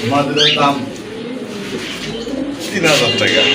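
Pigeons, a fresh pair for sale at a market, coo in low rolling calls close by while someone talks over them for much of the time.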